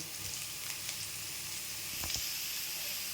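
Grated carrot added to onions frying in a pan, giving a quiet, steady sizzle with a few soft stirring scrapes and clicks.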